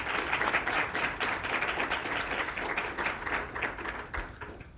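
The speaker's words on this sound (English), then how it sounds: "Please clap" Audience applause at a Federalist Society law talk on presidential immunity, a steady burst of many hands clapping together at moderate volume, fading slightly toward the end.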